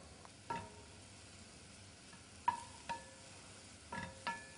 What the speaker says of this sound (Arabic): هلأ هون الزبدة ساخت، بزيد الفطر.